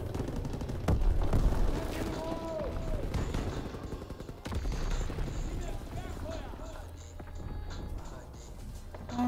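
Video game gunfire rattles in rapid bursts, with sharp repeated shots and heavier booms, mid-distance, mixed with other game noise while a person talks over it.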